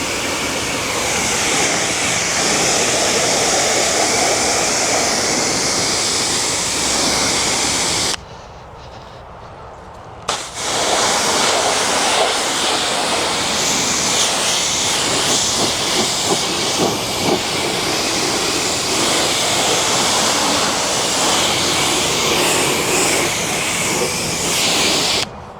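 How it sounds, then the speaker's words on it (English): A high-end pressure washer sprays deionized water onto a vehicle during a maintenance wash, a loud continuous hiss that cuts out for about two seconds, then resumes with a spattering texture. "very nice high tier pressure washer, you want to check that video out, because I've been using this for a little while now"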